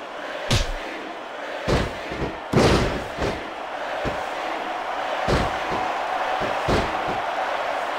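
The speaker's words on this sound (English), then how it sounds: "What a wicked DDT." A wrestler's DDT finisher hits the mat with a heavy thud, one of several sharp slams and impacts ringing through a roaring capacity arena crowd.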